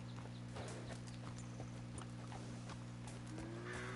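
A horse's hooves clip-clop at a steady walking rhythm in Red Dead Redemption 2, faint and even over a constant low droning hum.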